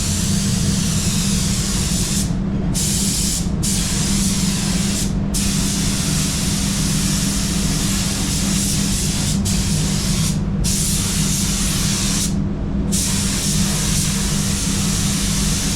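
A spray gun lays down clear coat in a steady, loud, close hiss. The spray continues almost unbroken, with a few brief cutoffs between passes.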